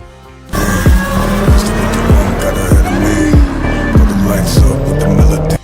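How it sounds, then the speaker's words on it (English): A Dodge Challenger SRT Hellcat muscle car with a V8 engine roars loudly and steadily nearby, punctuated by a regular series of sharp rev pulses, with no voices. "The Hellcat, a muscle car legend. With its roaring V8 engine"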